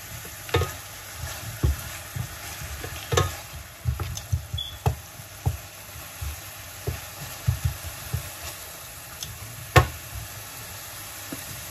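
Garlic sizzles in a frying pan for a chicken and spinach lasagna, with a steady crackle broken by repeated sharp knocks and scrapes of a stirring utensil against the pan.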